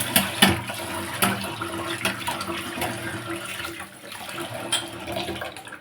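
Tap water runs steadily into a bathroom basin during washing, a continuous splashing stream with small irregular bursts as hands or the basin are rinsed.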